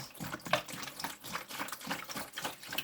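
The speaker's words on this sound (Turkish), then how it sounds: "Şimdi hep beraber suyumuzu dolduralım." Water being poured to fill a container to the brim for a toy-cleaning session, heard as a continuous close splashing, gurgling flow with rhythmic surges and no talk.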